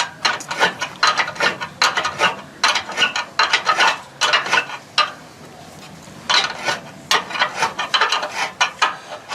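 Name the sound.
tightening solar panel mounting bolts on roof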